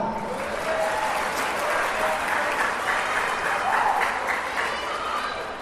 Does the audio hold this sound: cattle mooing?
no